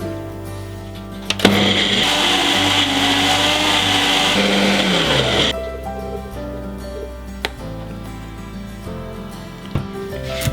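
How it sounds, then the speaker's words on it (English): A kitchen blender blitzes Thai green curry paste with vegetable oil for a vegan curry, roaring loud and close for a few seconds before stopping, followed by quieter clinks and handling sounds. "Now put all this into a blender, pour in 75 milliliters of vegetable oil and blitz until you get a smooth paste."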